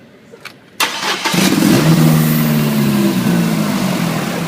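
A car engine cranks with a short starter whir, catches and settles into a loud, steady idle close by, its low hum continuing evenly to the end.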